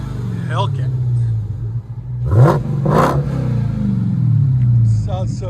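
A Dodge Charger Hellcat with a 6.2L supercharged Hemi V8 and aftermarket exhaust rumbles at idle, then blips twice in quick sharp revs that rise and fall. Someone talks over the engine throughout.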